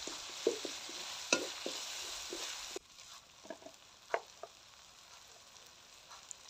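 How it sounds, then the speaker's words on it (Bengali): Onion, tomato and dried chili frying in hot oil for vag dal, with a steady sizzle and repeated stirring scrapes; the sizzle drops sharply partway through, and softer clinks and stirs continue after. "পেঁয়াজ আর টমেটোটা ভাজা ভাজা হয়ে একটু শুকনো লঙ্কা দিয়ে দিলাম।"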